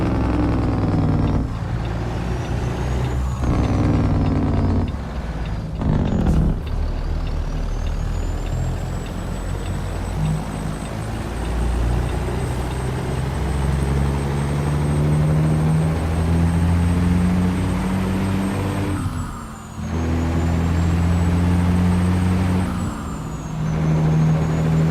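Heavy truck in American Truck Simulator running loud and steady, with low engine drone shifting in pitch as gears change, a sharp air-brake hiss around six seconds and a brief drop near twenty seconds, no talk.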